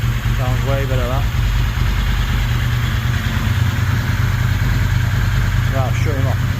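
A Ducati 916 motorcycle engine, just back running after a fuel pump repair, idles nearby with a steady, throbbing rumble, while someone speaks briefly over it near the start and end.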